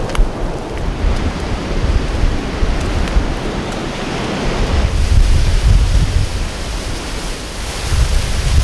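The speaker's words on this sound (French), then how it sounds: "Alors ça c'est la cascade qui va nous servir de douche" A waterfall on the Kalalau trail pours in a continuous broadband roar, close and loud, with wind buffeting the microphone and the rush swelling heavier partway through.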